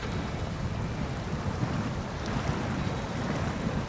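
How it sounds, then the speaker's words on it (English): A TUZ 16 Actaeon work truck in the SnowRunner video game drives into water, producing a steady broad rushing, sloshing wash with a low engine rumble throughout, no speech. "First-person truck going over into the water."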